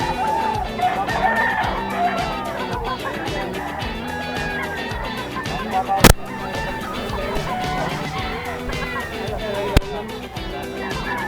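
A young gamecock stag crows at a busy pet market, with other roosters and fowl calling around it amid crowd noise and people talking, plus a couple of sharp knocks.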